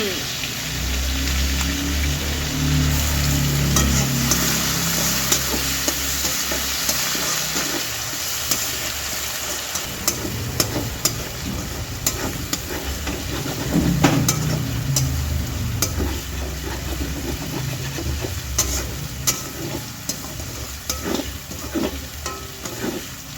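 Ground spice paste sizzles and spits in hot oil in a pan, with steady stirring scrapes and frequent crackling pops across the whole stretch. Chilli heat is in the paste, and a faint voice comes through now and then.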